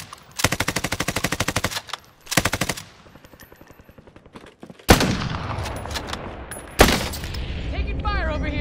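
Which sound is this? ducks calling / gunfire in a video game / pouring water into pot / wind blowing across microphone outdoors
gunfire in a video game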